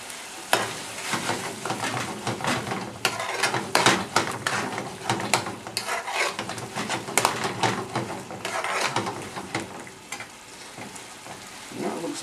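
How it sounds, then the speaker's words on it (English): Lamb balti sauce bubbling and reducing in a pan, a steady close-up crackle and sizzle with occasional spoon stirring, no talking over it. "reduce the sauce down a bit, and then a good pinch of garam masala."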